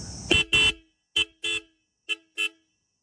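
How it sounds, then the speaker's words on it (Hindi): Six short motorcycle horn honks from a Royal Enfield Classic 350 sound in quick pairs with brief silences between them, loud and close with nothing else around. "अब मैं आपको हॉर्न्स की वॉइस सुनाता हूँ एक बार"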